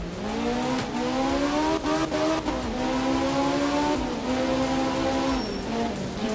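A rally car engine in the Art of Rally video game drones loud and steady, rising and falling with gear changes, with tires hissing on the road surface and no talk.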